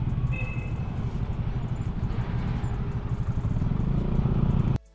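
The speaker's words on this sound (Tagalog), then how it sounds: "Nagsisimula na yung motocross dito guys" Motocross motorcycles race on a nearby track, a steady, loud, rumbling engine drone with rising and falling revs that fills the whole stretch without pause.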